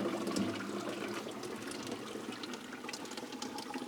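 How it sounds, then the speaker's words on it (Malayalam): Thick watermelon caramel pudding cake batter pours steadily into a vessel, a continuous close wet flowing rush that stays even from start to end. "അപ്പോൾ ഇത് നമ്മുടെ പുഡിംഗ് കേക്കിൻ്റെ ബാറ്റർ നമ്മളിനി ഈ പാത്രത്തിലേക്ക് ഒഴിച്ചു കൊടുക്കുകയാണ്"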